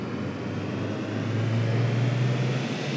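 A BMW i8 in the City Car Driving game accelerating hard from standstill to 100, with a steady, loud synthetic engine drone that climbs gradually in pitch over three seconds, with no voices.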